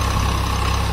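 An old 1999 Swaraj 735 FE tractor's engine runs steadily at idle with a low, even diesel rumble, close and loud, no voices.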